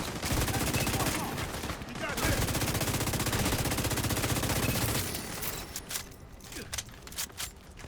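Loud sustained automatic gunfire from a firefight in The Division 2, rapid bursts roaring for about five seconds before breaking into scattered, sharper shots.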